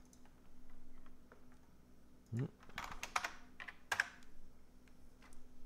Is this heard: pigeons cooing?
no